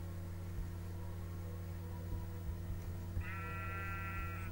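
Sheep bleating in the video game Minecraft, a short synthetic bleat arriving late, over a steady droning game background hum with faint clicks.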